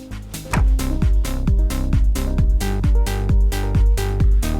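A Moog Subsequent 37 synthesizer plays dry, with no effects. It repeats a rhythmic pattern of punchy, plucked bass notes at a steady pulse, loud and up close, with no talking.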